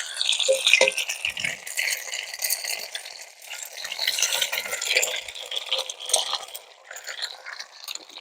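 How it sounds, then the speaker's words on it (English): Bacon and eggs fry in a pan outdoors in the backwoods, a steady crackling sizzle running throughout with a couple of faint metallic clinks early on. "And now I'm cooking mine."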